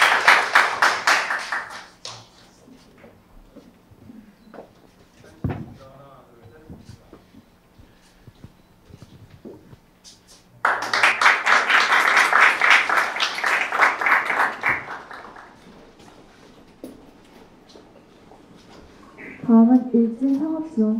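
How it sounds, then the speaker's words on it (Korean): Applause at a Korea University startup award ceremony: an audience claps in two strong bursts of several seconds each, with a host speaking into a microphone in between and near the end. "네, 큰 박수 부탁드립니다."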